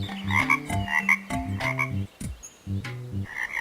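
Cartoon frogs at a pond croak in quick, rhythmic bursts, loud and close, with bubbly synthetic tones and short pauses between phrases.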